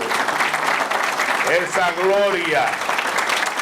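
Loud, sustained applause from a conference audience for a speaker honored during a lecture on Gregorio Luperón, steady clapping throughout with a voice speaking over it.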